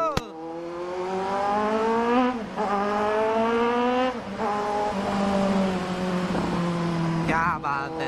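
Kawasaki Z900 motorcycle accelerating hard on a highway. A loud, steady engine whine climbs in pitch through several gear shifts, sustained for about eight seconds and heard up close.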